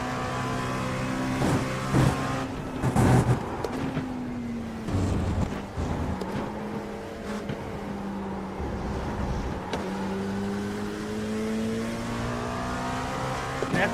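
Race car engine in the iRacing sim, racing around Silverstone, holds a steady loud drone with pitch rising and falling through gear shifts, broken by a few sharper revving bursts, with no voices.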